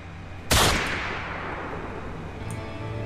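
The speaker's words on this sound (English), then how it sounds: "You shoot the bottle." A single sharp gunshot fired at a bottle in Fallout Equestria, loud and close, with a long fading tail and a faint clink afterward; no talking.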